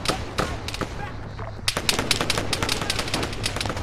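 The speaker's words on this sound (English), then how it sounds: "our hunter heavy machine gun should be laying down some cover fire" Heavy machine gun fire from a Hunter vehicle in Arma 3, rapid bursts of sharp shots with scattered distant gunfire, dense rattling volleys growing busier toward the end, with faint talk underneath.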